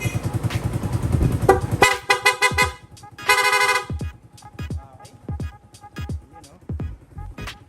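Several short bursts of a Yamaha Sniper 150 motorcycle's stock horn honk amid engine noise, followed by scattered clicks and knocks, close and fairly loud.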